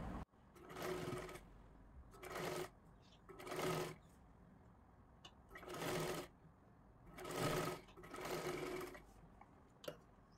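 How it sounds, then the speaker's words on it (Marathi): A sewing machine stitches a blouse along a round curve in about six short bursts of rapid whirring, each separated by a quiet pause, close and fairly loud. "गोल आकारामध्ये व्यवस्थित आपल्याला शिलाई करून घ्यायची आहे."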